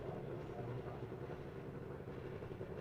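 A steady, moderately quiet engine drone comes from Formula 3 race cars idling on the starting grid at Watkins Glen in a sim racing game, continuous and even, with no speech over it.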